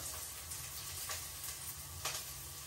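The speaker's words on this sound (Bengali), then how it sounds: "পেঁয়াজটি ভাজা ভাজা হয়ে গেছে, এখন দিয়ে দিলাম হলুদ" Onion fries in a pan after turmeric goes in, a quiet steady sizzling hiss with a couple of faint stirring scrapes, no voices.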